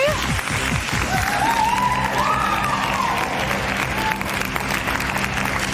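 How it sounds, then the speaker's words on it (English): A live television studio audience at a Big Brother Australia 2006 nominations show applauds and cheers, a dense, steady wall of clapping with scattered whoops and shouts rising above it throughout. "we have a cold but enthusiastic crowd here tonight"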